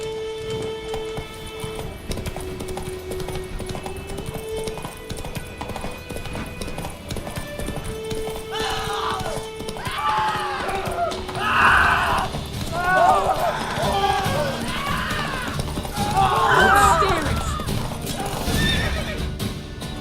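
Roach the horse from The Witcher 3 gallops with steady clip-clop hoofbeats and several loud whinnies and neighs, set against game music and occasional voices.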